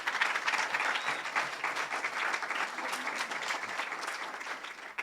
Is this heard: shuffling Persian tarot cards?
no